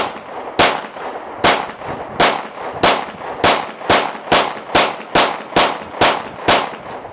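Repeated shots from a SIG Sauer P226 MK25 pistol, about a dozen sharp, loud cracks fired at a steady, fairly quick pace with short ringing decays between them and no talking.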